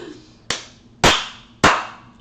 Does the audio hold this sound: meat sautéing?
no